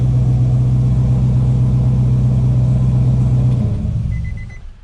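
An LS V8-swapped Nissan 350Z idles with cylinders 1, 2 and 8 misfiring, a close, steady low rumble held for several seconds before it dips and shuts off.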